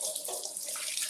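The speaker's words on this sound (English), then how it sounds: "Let me wash my hands." Tap water runs steadily into a sink as someone washes their hands, a continuous close splashing hiss with no talking.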